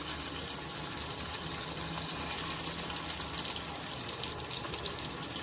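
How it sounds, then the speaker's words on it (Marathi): Drumstick-leaf vadi pieces fry in a little oil in a kadai, giving a steady, dense sizzle that fills the clip evenly with no talking. "जेवढ्या बसतील तेवढ्याच आपल्याला खमंग अशा मस्त कुरकुरीत तळून घ्यायच्या आहेत"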